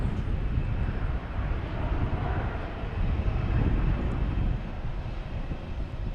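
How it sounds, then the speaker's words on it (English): Lufthansa Airbus A340 airliner flying near Boston Logan Airport, a steady broad engine roar that holds loud and continuous throughout with no voices. "Lufthansa A340 heading downwind on its way here"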